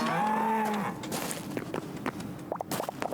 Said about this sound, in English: Undead cow.